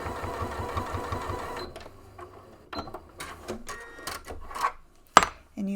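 A sewing machine stitches across backpack strap tabs with a quick rhythmic mechanical patter for about a second and a half, followed by quieter handling clicks and taps.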